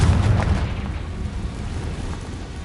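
A Confringo fire spell explodes in the Hogwarts Legacy video game, a loud, deep booming blast with a rumbling low-end tail that fills the whole stretch without any voices.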